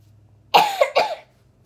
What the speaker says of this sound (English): Sorry, coughing, bugging the song